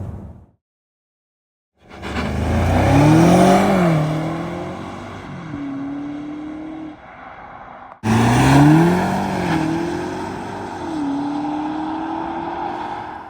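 A 2024 BMW 760i xDrive, the G70 7 Series with a twin-turbo engine, accelerating hard in two loud, close runs, the pitch climbing through gear changes and dropping back before a second surge, with a brief quiet gap between.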